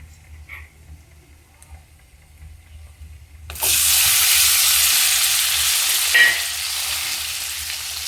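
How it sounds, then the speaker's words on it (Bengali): Chopped tomatoes drop into hot oil in a pan for a fish curry, and a sudden loud, steady sizzle bursts up after a quiet start and carries on close by with a brief clink. "টমেটোটা একদম গলে যাওয়া অবধি আমি এখানে ভাজতে থাকবো।"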